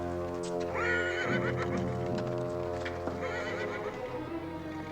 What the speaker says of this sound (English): I'll make sure my horse is tied to lead.